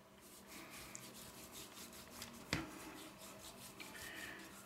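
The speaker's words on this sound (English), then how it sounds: "But just get that rubbed in there real good." Seasoning rubbed by hand into meat before smoking, soft close rhythmic rubbing and scraping strokes with a sharper knock partway through, fairly quiet and without talk.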